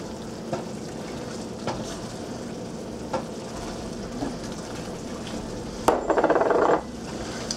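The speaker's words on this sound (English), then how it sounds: "Just kind of slowly add the egg and stir it around." Shrimp in oyster sauce sizzles steadily in a pan with light periodic utensil clicks, then a louder, rougher burst of scraping as egg is stirred in near the end.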